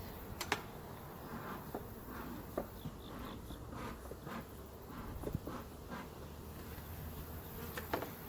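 Honey bees buzz around a backyard hive in Oklahoma while it is opened for an inspection, a soft continuous hum with individual bees zipping close past now and then and faint clicks of handling.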